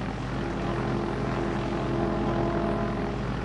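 An airplane's engine warms up before a flight, a steady, fairly close droning hum with an even pitch that holds without breaks; no talking.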